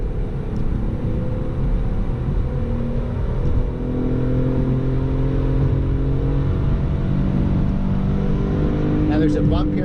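BMW E46 M3 with a manual gearbox revving hard in third gear after a downshift, a loud, sustained engine drone heard from the cabin throughout, with faint road noise.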